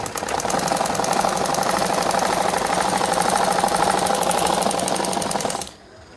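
A sewing machine running steadily for about six seconds, a close, even mechanical whir with rapid stitching rhythm, stopping abruptly near the end with no talking.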